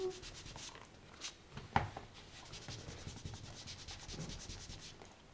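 A leather buffer rubbed over the sanded seams of a handmade leather sunglasses case, a soft, steady back-and-forth scuffing close by, quiet, with one small knock partway through.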